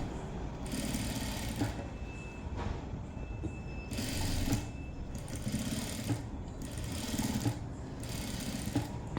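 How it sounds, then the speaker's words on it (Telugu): A sewing machine stitching cloth, loud close mechanical whirring in several bursts of roughly a second each, separated by brief pauses, with no talking. "థ్రెడ్కి తర్వాత కుట్టుకి ఇక్కడున్న థ్రెడ్కి క్లాత్కి మధ్యలో ఒక కుట్టు అయితే వేసుకోవాలి"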